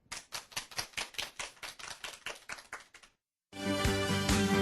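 Applause closes a lecture on computer languages and ubiquitous computing: about three seconds of brisk, evenly spaced claps, a short silence, then music starts.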